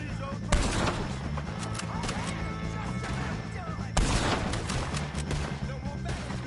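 Gunfire in the Red Dead Redemption II video game, with a sharp shot near the start and another burst around the four-second mark over a dense, continuous bed of game sound and music.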